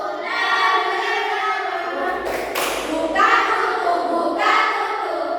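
Children clapping their hands in an open-and-close clapping game, a few sharp bursts of claps over continuous sung or chanted voices.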